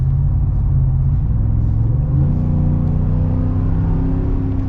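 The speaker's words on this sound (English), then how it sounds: "Listen to that V8. Sounds great." A deep, rumbling 5.0 V8 engine in a 2022 Ford F-150 pickup revs steadily at close range, its low throaty growl rising in pitch midway and holding loud throughout.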